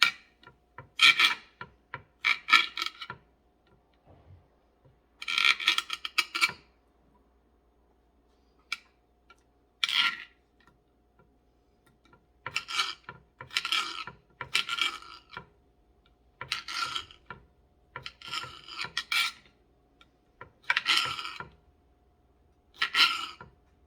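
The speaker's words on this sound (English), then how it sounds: "I don't like the sound of this knife on this cutting board" A knife slicing tomatoes makes repeated rasping, scraping strokes against a cutting board in irregular bursts with brief quiet gaps between them.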